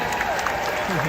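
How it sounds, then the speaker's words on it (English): A live audience at a Hollywood Studios show in Walt Disney World applauds a young boy, a broad burst of clapping heard with a voice over it. "Would you give this young man a round of applause?"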